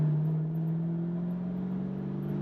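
A 1968 Mustang Fastback engine holds a steady low hum with a faint rising drone, heard from inside the car, moderately loud with no talking over it.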